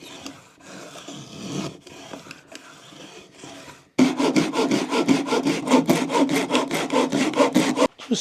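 A sharp hand plane shaves wood in rhythmic, rasping strokes, quieter and uneven at first, then loud, fast and regular up close.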